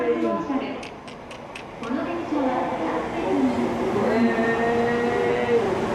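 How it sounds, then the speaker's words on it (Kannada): A Shinkansen N700 bullet train arrives at a station in Japan, with a steady rising rumble and whine building under a person talking, plus a few short ticking chimes near the start. "ನೋಡಿ ಅಲ್ಲೊಂದು ಬರ್ತಾ ಇದೆ ಬುಲೆಟ್ ಟ್ರೈನ್"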